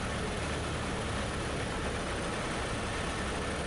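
Steady, droning engine of a small airplane with power pulled back on a solo cross-country landing approach, a dense unbroken roar with wind noise and no voices.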